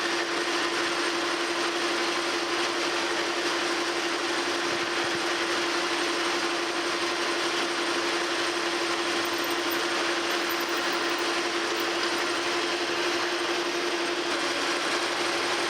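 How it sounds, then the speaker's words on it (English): A metal lathe center drills a steel double T-nut for a metal planer's clapper box. It gives a loud, continuous, steady machining whir with no pauses or talk. "I'm going to come in here with a center drill"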